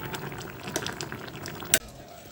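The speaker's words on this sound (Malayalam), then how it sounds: "ഒന്ന് ജസ്റ്റ് ഇളക്കി കൊടുക്കുന്നുണ്ട്" A young pumpkin curry being stirred in a pan, with a soft, steady simmer and scraping, a few small clinks, and a sharp metallic knock near the end.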